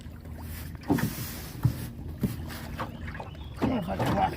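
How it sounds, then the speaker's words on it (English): A boat is hauled through about eight feet of water inside a spillway tunnel, with sloshing splashes and hollow knocks echoing close by in the enclosed space, amid faint voices. "Let's see if we can pull the boat through."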